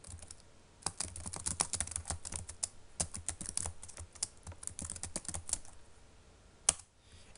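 Rapid, irregular keystrokes on a computer keyboard as XML is typed out, close and clear with short pauses between bursts and a brief stop near the end.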